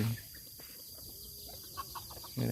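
Chickens cluck softly in short, scattered calls at a moderate distance, over a faint background hum.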